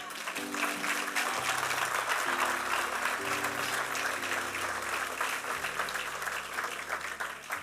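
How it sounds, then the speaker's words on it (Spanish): A church congregation applauds during a sermon, sustained lively clapping heard over held keyboard chords that shift beneath it. "Dale un aplauso al Señor"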